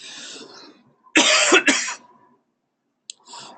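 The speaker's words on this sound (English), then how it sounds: "I'm having a bit of a cough." A single hard, loud cough bursts out in two quick hacks, with faint murmuring before and after.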